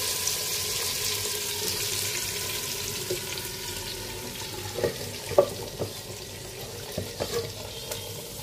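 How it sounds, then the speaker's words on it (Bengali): Spice-marinated chicken for handi chicken hits hot tempering in a pot, setting off a steady close sizzle and frying hiss, followed by a few soft knocks and stirring clatters. "ফোড়নটা হয়ে গেছে, এবার মশলা মাখা চিকেনগুলো আমি দিয়ে দিচ্ছি।"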